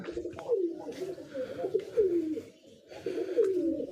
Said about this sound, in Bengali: এই যে দেখেন বাকি কবুতরগুলো সব ভিতরে আছে